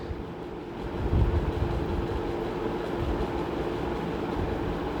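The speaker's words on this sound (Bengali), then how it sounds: "এই তো ডোর লক হলো, এখন আবার চলে যাবে মেট্রো রেল।" A metro train pulls away from a station after its doors lock, a low rumbling roll that swells after a second and holds steady, heard from close by.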